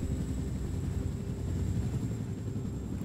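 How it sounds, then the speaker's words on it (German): Helicopter flying in the video game Wolfenstein: The New Order, a steady low rotor drone with a constant whine above it, loud and unbroken for about three seconds, no voices. "Die soll den Hubschrauber fliegen."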